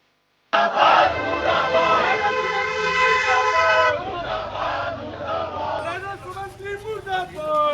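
Crowd of Congress party protesters in Dhamtari chanting slogans against a registry fee hike, a loud sustained mass of voices that holds steady before breaking into rhythmic shouted chants.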